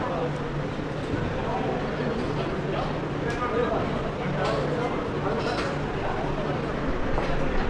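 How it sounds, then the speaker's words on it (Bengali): Kolkata metro train pulling into Jessore Road station, a steady broadband rumble and rail clatter filling the platform, with crowd chatter and voices underneath throughout. "মেট্রো এসে দাঁড়িয়েছে দেখুন"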